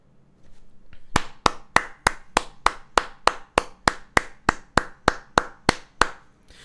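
A single pair of hands claps at a slow, steady pace, about sixteen sharp, evenly spaced claps over several seconds, close and clear with no talking.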